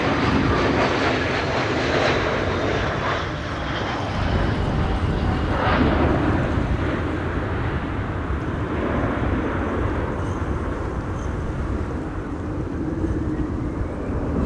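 Finnair Airbus A320 at Amsterdam Schiphol in high storm winds, a loud continuous jet engine roar mixed with heavy wind rumble, steady throughout with a rising whine partway.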